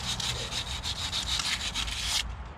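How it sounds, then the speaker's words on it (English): Sandpaper rubs off surface rust on the hub of a 2001-05 Honda Civic in quick, close back-and-forth strokes, a rhythmic gritty scratching for about two seconds before it stops. "A little surface rust in here. It's always good to have a little bit of sandpaper in your box."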